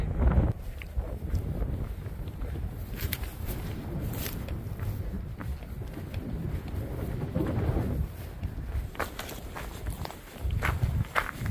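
Gusty wind on a wooded stretch of the Appalachian Trail rumbles across the microphone, under steady crunching footsteps of a hiker walking along the trail, continuous and close.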